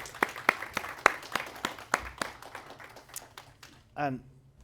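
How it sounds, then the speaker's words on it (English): A small audience at a technology panel gives scattered, sparse applause, a handful of distinct claps thinning out over a few seconds, followed by a brief spoken voice. "Round of applause, please."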